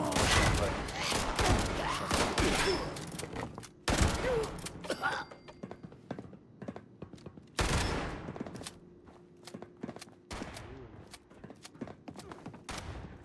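Bursts of rapid gunfire and scattered single shots from a video game shooter come in loud clusters separated by pauses, with players talking over the action.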